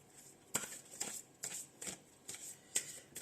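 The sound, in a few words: drawing and shuffling Ho'oponopono cards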